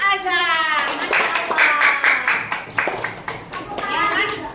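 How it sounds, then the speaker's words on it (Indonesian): Children clapping together in a classroom during a lesson, a burst of quick, uneven applause with young voices talking over it. "Beri tepuk tangan pada kelompoknya Mas Azam"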